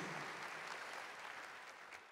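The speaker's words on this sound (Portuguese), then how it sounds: "Queria que você aplaudisse isso" A church congregation at a Catholic Mass claps together, a dense even patter of many hands heard from within the hall, steady throughout and tapering slightly at the end.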